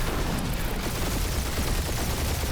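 Enemy gunfire in the video game Guardians of the Galaxy, a dense, unbroken barrage of rapid shots and crackling noise filling the whole moment at steady loudness.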